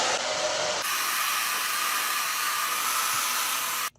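A hair dryer blows on thin hair, starting with a brief higher whine before settling into a steady, loud, continuous airy roar that cuts off abruptly at the end.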